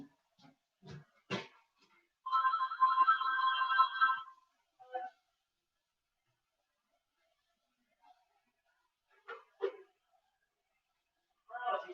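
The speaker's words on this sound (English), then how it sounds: "oh, the phone's ringing." A house phone rings in a quiet room, one steady electronic ring lasting about two seconds, then silence broken by a few faint household clicks and distant noises.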